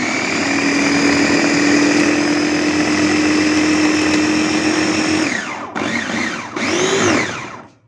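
A kitchen blender whirs loudly and steadily while blending ingredients, then slows and is switched off and on in short bursts with pitch dropping and rising before it winds down at the end.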